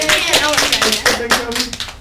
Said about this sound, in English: Can we get a big round of applause for Kobe?